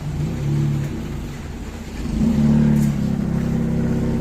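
A Toyota Vios car engine revving while reversing through deep water, a loud steady low drone that swells in the middle, with rain-like wash over it and no talk.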